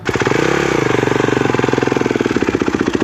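A high-powered motocross bike engine runs loud and close, held at a fast, steady throttle to keep it from stalling, with a rapid pulsing chug throughout.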